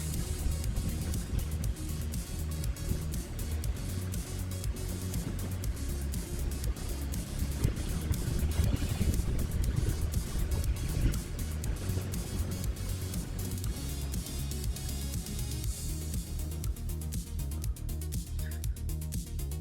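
An ECOROAD ES6 electric scooter with dual 1000W motors rides at its top speed of about 34-35 mph, wobbling slightly. A loud, steady rush of wind and road roar fills the whole stretch without a break.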